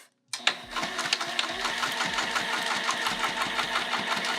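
A sewing machine stitches fabric for a patchwork zipper case at a stitch length of 3.5, starting abruptly and running steadily with a fast, even mechanical chatter, close and loud.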